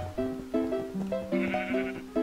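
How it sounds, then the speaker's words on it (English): Sheep bleating in a Minecraft Hypixel minigame, a run of repeated game-style bleats in quick succession with a steady, clear rhythm, loud and near, with no talk. "Feed both sheep."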